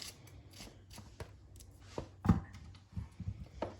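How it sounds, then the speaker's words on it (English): Metal spoon scraping the seeds from the center of a cucumber during soup prep, a run of soft, close scratchy scrapes at an uneven rhythm, with a few sharper taps and knocks toward the end. "I'm just gonna take a spoon and just scrape the seeds out of the center of the cucumber"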